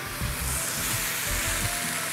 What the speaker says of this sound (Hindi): अच्छी तरह मसालों में पूरी चिकन को सौते होने दीजिएगा